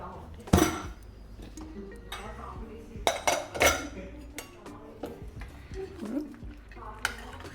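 Metallic clanks and scrapes from a pressure cooker lid being handled and opened after three whistles, several sharp close clinks scattered among softer rattles in a home kitchen, with light talk in the background.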